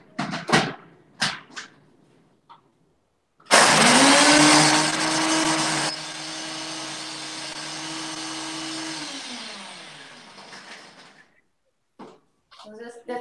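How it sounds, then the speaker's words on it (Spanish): A blender roars loudly for several seconds, its motor pitch dropping and steadying, then winding down, with short bursts of talk before and after. "Y la licuadora, batidora,"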